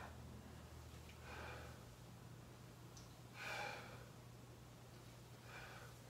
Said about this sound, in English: Inhale, exhale, inhale,